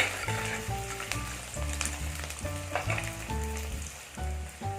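Curry leaves and onions sautéing in oil for a fish curry, a loud, close, continuous sizzle with repeated stirring strokes, while a tonal melody plays over the top in a regular pattern.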